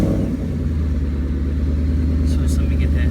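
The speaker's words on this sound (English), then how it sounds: "let me go ahead and crank it and give it a couple revs for you" A supercharged 2013 Ford Mustang Roush TVS engine runs close by with a steady, loud idle rumble and mild revving throughout, while a voice speaks briefly near the end.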